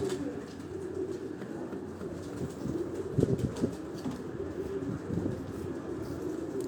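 Pigeons kept on a rooftop coo softly and intermittently amid open outdoor background noise, with faint flutters and a few brief knocks, fairly close but quiet.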